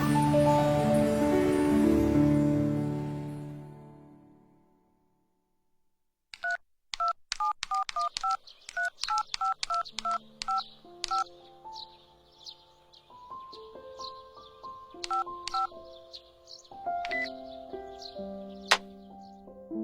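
Mobile phone keypad beeps while an email is typed, a quick run of short tones followed by sparser, irregular key presses, clear and close in a quiet room after a fading swell of music.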